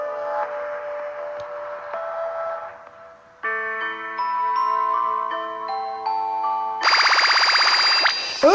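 A wake-up bell sounds in a prison video game: a soft sustained tone, then a louder steady chime from the middle, and finally a bright insistent electronic ringing at the end, with no talking.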